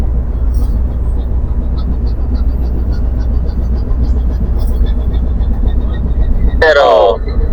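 A ship's engine running dead slow astern while approaching a pier, a loud, steady low rumble and drone with a brief burst of radio-like talk near the end.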